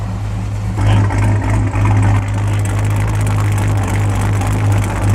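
A 1970 Chevrelle SEMA build's engine idles warm, a loud, steady, deep lumpy rumble with a slight rhythmic lope close by, no voices.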